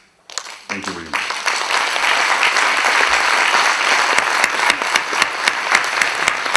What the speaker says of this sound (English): You're supposed to applaud long.